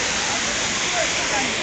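Heavy waterfall water crashing down onto a person's head, a dense, steady roar of falling water that fills the short moment without a break.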